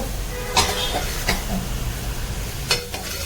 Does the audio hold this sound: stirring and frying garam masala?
yes